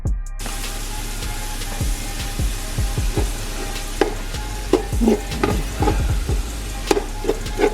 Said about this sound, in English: I have this set on medium heat, and I'm just gonna put my ground beef in to get it started.